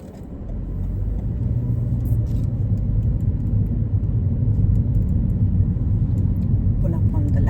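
A car pulls away during a driving test, a steady loud low engine rumble filling the interior from start to finish with faint occasional clicks.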